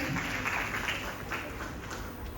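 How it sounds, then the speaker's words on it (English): Applause from the audience at an inter-school debate competition as speakers take the stage, a soft, steady patter of many hands heard somewhat distant and even throughout, with no clear voices over it. "Everybody, please put a huge round of applause for them."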